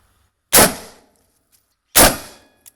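A rifle fires green tip armor-piercing rounds into drywall, two loud, sharp reports about a second and a half apart, each ringing and decaying quickly into near silence, with a faint click at the end.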